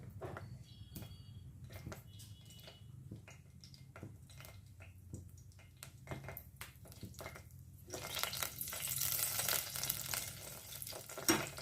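Asafoetida and two green chillies tempering in hot oil: quiet crackles and scattered pops at first, swelling into a louder, denser hiss of spattering oil near the end, with no speech.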